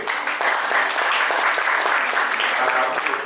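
A theatre audience at a staged play gives sustained, loud applause, a dense continuous wash of many hands clapping close by without pause.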